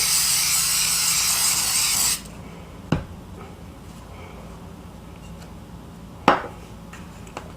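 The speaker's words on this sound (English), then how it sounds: "And make sure you spray again to make sure it's sticky." Adhesive spray hissing from a can onto a punch art craft piece, a loud continuous spray for about two seconds that stops abruptly, followed by two sharp clicks in a quiet room.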